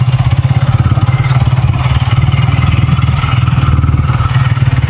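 A motorcycle engine runs in gear with no throttle, a loud, steady low thumping idle with a fast even pulse and light mechanical clatter, close to the microphone, with no talk.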